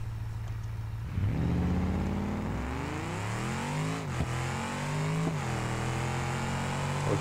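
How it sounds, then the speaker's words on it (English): Mercedes G-Class G63 in the BeamNG Drive driving game, a loud engine that revs up from idle, climbing in pitch with brief dips at gear shifts or impacts, continuous and close with no talking. "Next car, Mercedes G-Class."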